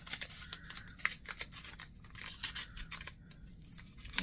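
A brown paper envelope holding a Valentine's Day card being opened, with close, crisp paper crinkles, snips and rustles coming in quick irregular bursts, no voices.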